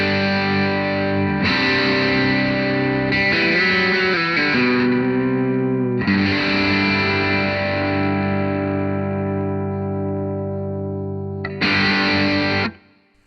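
Loud electric guitar chords through an overdrive pedal with its bright switch on ring out in sustained bursts, bright and harsh with a piercing top end, pausing briefly between strums and ending abruptly.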